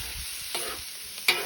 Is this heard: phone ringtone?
no